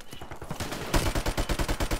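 Rapid bursts of gunfire from a shooter video game, a fast even rhythm of loud shots that grows denser and heavier after the first second, close and dominant.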